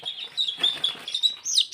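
Young desi chicken chicks peep in shrill, rapid, continuous calls while being picked up and handled for eye-drop vaccination, close and fairly loud, with only faint background noise.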